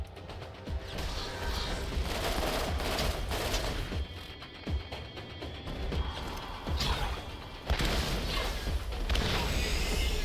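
Pistol gunfire in a Borderlands battle: sharp, close shots mixed with clanking mechanical noise and crashes in a busy, continuous stretch of combat.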